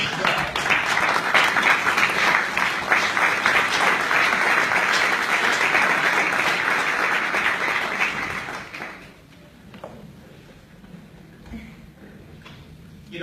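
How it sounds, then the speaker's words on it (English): A crowd applauds steadily for several seconds, then the clapping fades out into quiet room noise. "So if you can join me in an applause for Estel."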